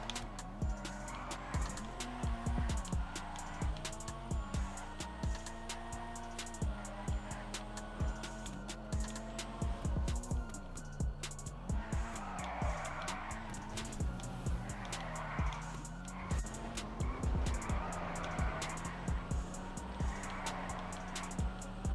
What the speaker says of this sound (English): So let's try a little bit of drifting here.